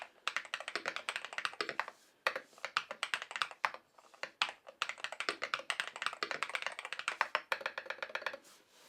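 On an MCHOSE Ace 68 Turbo keyboard, quick close-up typing produces dense bursts of crisp clicking keystrokes, with a couple of short pauses and no one talking.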